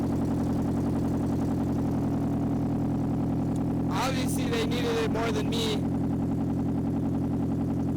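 A BMW idles loudly and roughly with its catalytic converter stolen, a steady low exhaust drone running the whole time while a person talks over it nearby.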